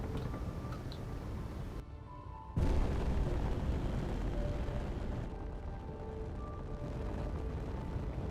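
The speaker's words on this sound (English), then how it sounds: "Oh, we're firing at them." In the game Space Engineers, ship weapons fire at pirates as a continuous, loud, rumbling barrage of booms that dips briefly and then surges back heavier, with no one talking.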